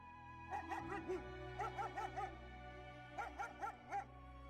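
German shepherd dogs held back by their handlers at a camp arrival bark in three quick bursts of yelps and barks, somewhat distant and echoing over a low steady background.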